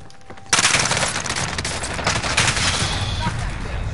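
Stoner machine gun firing in a Call of Duty match, a sudden loud burst of rapid automatic gunfire that keeps rattling densely to the end, close and harsh.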